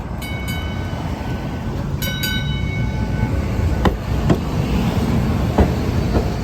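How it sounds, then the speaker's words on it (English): Boston light rail train riding, a loud continuous rumble and clatter of the car in motion with sharp squeals and several brief clanks along the way, heard from inside with no voices. "we just got on this train"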